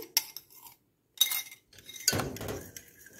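Metal utensil stirring a heated mixture of coconut milk and sugar in a pot for kuih bangkit, three separate bursts of clinking and scraping with short pauses between them.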